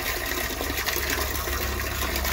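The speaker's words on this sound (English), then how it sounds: "I also fill up the other tank behind there using the wastewater from the grow bed from the fish up there" Wastewater from a fish grow bed pours into a tank, a steady close gushing and trickling stream with no talking.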